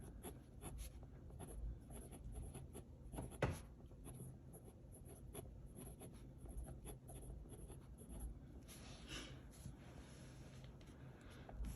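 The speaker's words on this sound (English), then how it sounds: "let me write this down" A pen scratches across paper in quiet, close strokes, with a soft rhythmic scritch and brief pauses between words, faint and with no one talking.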